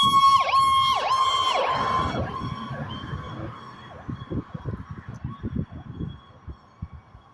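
A siren wails loudly at first, then fades into the distance while low rumbling thumps continue underneath.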